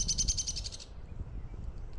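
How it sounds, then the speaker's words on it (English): A loud bird call repeats in a quick pulsing series for just under a second, then stops, leaving steady low outdoor rumble with no voices. "Loud bird."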